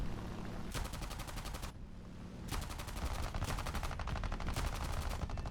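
Rapid bursts of aircraft machine-gun fire from a P-63A fighter in War Thunder, loud and close, three long sustained volleys separated by brief pauses, with no talking.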